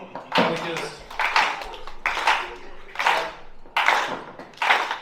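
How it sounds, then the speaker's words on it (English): A comedy-club crowd keeps a slow, unison clap going, with broad, roomy hand-claps landing roughly once a second in a steady rhythm. "Can I get a slow clap going?"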